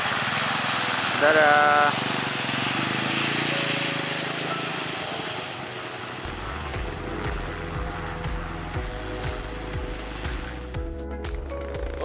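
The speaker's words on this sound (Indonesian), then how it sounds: "Ini dia udah siap-siap untuk take off. Sedang take off." A propeller airplane takes off at a remote mountain airstrip in Wamena, its engine roar loud and close, rising in pitch and then steadying as it accelerates, with a person speaking briefly over it.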